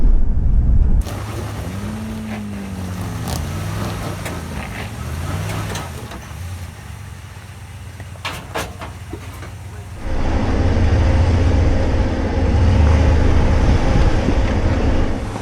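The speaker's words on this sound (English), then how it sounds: "Lots of wheel spin from the front differential, which is open." An off-road vehicle with an open front differential and a rear locker spins its wheels through mud, revving engine rising and falling in whines before a louder, steady churning roar.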